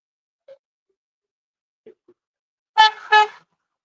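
A car horn gives two short honks in quick succession after near silence, with a couple of faint soft sounds before it.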